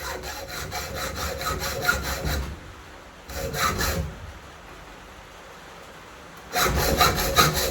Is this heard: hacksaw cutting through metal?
yes